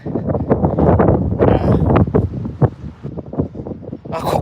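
Strong wind gusts outdoors beside a rice field, roaring and buffeting the microphone in uneven surges throughout.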